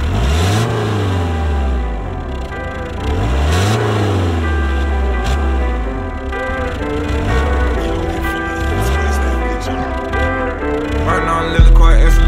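A 1994 Renault Express car engine running steadily and loudly up close, with repeated swells in pitch as it revs and settles.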